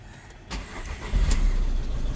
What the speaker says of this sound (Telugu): అండ్ ఒకసారి ఇంజన్ కూడా స్టార్ట్ చేసి బానెట్ లిఫ్ట్ చేస్తాను